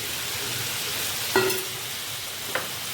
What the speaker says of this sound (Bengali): আর দেব ওই যে বড়া বড়াগুলো ভেজে রেখেছিলাম সেই ভাজা বড়াগুলো